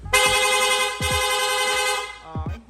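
A PIAA horn on a Honda Click V3 motorcycle honks in rapid mode, quick bursts, loud and close, with brief breaks between blasts and a final short double toot.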